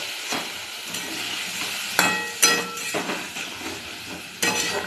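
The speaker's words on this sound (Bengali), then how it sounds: "দিয়ে একটু নাড়ব, ভালো করে নাড়ব।" Prawn curry is stirred in a pan after water goes in, with a soft bubbling sizzle beneath repeated sharp scrapes and clacks of a spoon against the metal, close and irregular.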